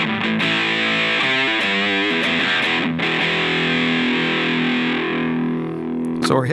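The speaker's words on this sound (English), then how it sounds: "So we're hitting those mids, but it's crazy distortion." Electric guitar played through a modded Boss DS-1 distortion pedal, heavily saturated with a strong midrange push, chugging chords then sustained ringing notes, loud and close with no talking.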